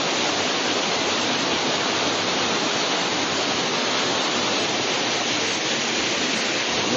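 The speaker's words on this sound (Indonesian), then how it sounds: "ini dia air terjunnya" A waterfall roars steadily and close by, a dense unbroken rush of falling water with no pauses, heard on a slippery, mossy descent toward the falls.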